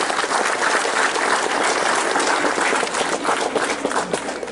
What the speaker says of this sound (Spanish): Le brindémosles un fuerte aplauso